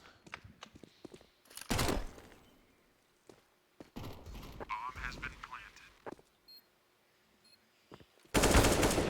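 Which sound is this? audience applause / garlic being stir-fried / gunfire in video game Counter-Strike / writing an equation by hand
gunfire in video game Counter-Strike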